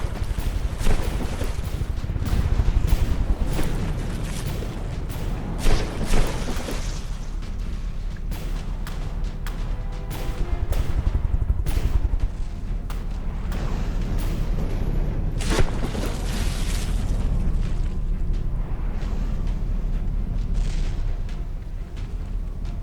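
Naval cannon fire and shell explosions in the From the Depths game, with a fleet trading shots. Heavy booms and cracking blasts come in irregular bursts and volleys over a continuous low rumble, loud and dense throughout.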